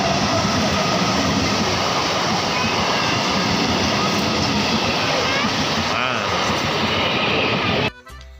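A train rolls past a village railway level crossing on a winter morning, a loud, continuous rumble and clatter of wagons that carries on for several seconds before cutting off abruptly.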